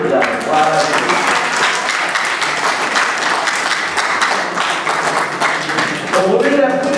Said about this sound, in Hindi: सब ताली बजाएं।